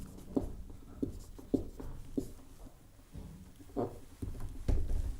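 Writing on a board during a chemistry lesson, with a series of soft, close scratching strokes and taps in irregular bursts and quiet gaps between them.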